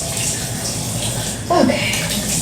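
Tap water running steadily at close range while a gentle green tea exfoliating scrub is rinsed off the face, a constant splashing wash with a brief louder gush partway through.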